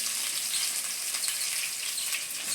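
Green chillies fry in a pan with curry leaves, ginger and garlic for rasam, giving a steady, dense sizzle that runs unbroken throughout with no voices.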